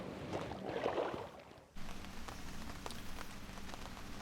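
Steady rain patters on surfaces beside a lake during a wet carp fishing session, a constant close hiss with scattered heavier drops and a brief muffled dip partway through.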